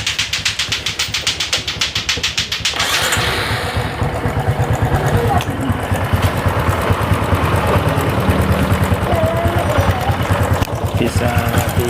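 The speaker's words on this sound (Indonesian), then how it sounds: "Supra X125 di sini itu kendalanya itu ada bunyi ngecek atau juga kasar ya di bagian untuk bagian mesinnya" A Honda Supra X125 motorcycle engine idles loudly and close by with a rough, rapid knocking clatter, the rhythm shifting slightly as it runs steadily throughout.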